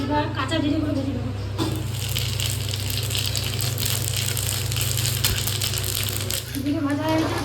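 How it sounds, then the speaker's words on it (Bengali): Raw cumin seeds fry in oil in a wok, a continuous sizzle with crackling and light scraping that runs most of the clip between brief quieter moments at the start and end. "এবার কাঁচা জিরেগুলো ভেজে নেবো।"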